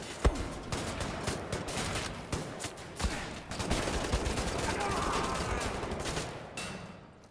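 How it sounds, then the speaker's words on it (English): Shotgun gunfire in the first-person shooter Wolfenstein: The New Order: a rapid, dense run of sharp, loud blasts and impacts that continues almost without pause over busy game noise. "There's a shotgun guy in here."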